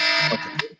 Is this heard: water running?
no